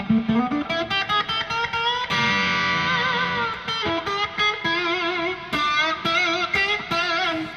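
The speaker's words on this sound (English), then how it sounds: "I'm just playing through this Doppler reverb in the loop" Electric guitar chords and single notes played through a Doppler reverb pedal in the effects loop ring out with a washy, lingering reverb tail, recorded by a room mic, loud and alone without any voices.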